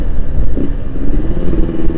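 Yamaha RX-King motorcycle fitted with a Boban exhaust, engine rumbling loudly and steadily up close with a brief rev partway through, no talking.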